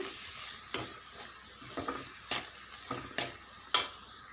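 A spoon scrapes and taps against a pan at irregular intervals over a soft, continuous sizzle, close and fairly quiet, while raw banana curry with coriander and cumin powder is stirred.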